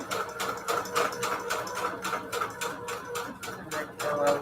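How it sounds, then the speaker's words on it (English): A sewing machine stitching around the edge of a junk journal, a fast, steady mechanical chatter of needle strokes at close range with slight changes in pace. "Then we're going to sew all the way around."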